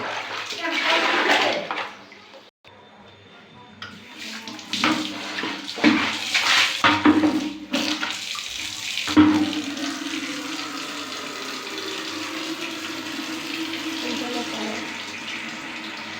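A tap runs steadily as water is fetched, a continuous splashing rush that follows a stretch of clattering and handling noise, heard up close.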